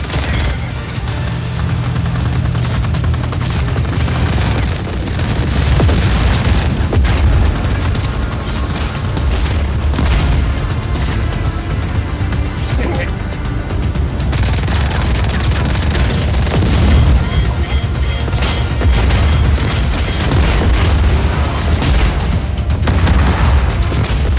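Heavy explosions and booming blasts rumble almost without pause as a target is destroyed in Just Cause 4, with dense layered detonations and crackling debris throughout, loud and close.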